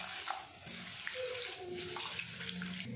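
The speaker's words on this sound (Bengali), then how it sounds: "এর মধ্যে জল দিয়ে 2 থেকে 3 বার ভালো করে ধুয়ে নেব।" Flattened rice (chira) being rinsed with water in a bowl, with a steady wash of running and splashing water and small sloshes, fairly close and continuous, with no voices.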